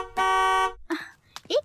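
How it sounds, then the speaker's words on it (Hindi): A car horn sounds outside in one sustained, loud blast lasting about half a second, followed by a brief voice speaking over it. "ये बाहर गाड़ी का हॉर्न कौन बजा रहा है इतनी देर से?"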